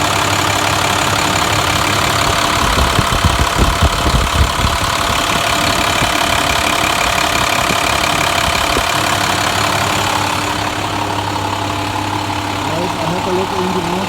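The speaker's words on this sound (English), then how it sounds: "Guys, I have to let the engine run for a little while." A Navistar Maxforce DT diesel engine runs during a forced regeneration, holding a steady, close idle drone with a rougher, knocking patch early on.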